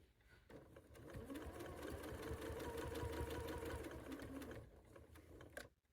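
A sewing machine runs steadily for about five seconds, stitching a quilt seam with a continuous mechanical whir, then stops abruptly.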